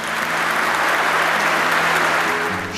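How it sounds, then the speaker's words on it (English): Hearty audience applause honoring two grand marshals of a St. Patrick's Day event, a thick, even roar of clapping hands held at full strength from start to finish. "Let's applaud these two gracious great Irishmen, Father Ware and Dan Sheehan."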